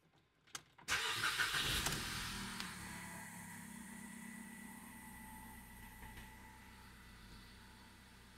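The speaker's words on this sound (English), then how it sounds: "Please run the engine." A Ford Focus engine cranks briefly, catches and fires up loudly, then settles into a steady, close idle that hums on with no talking.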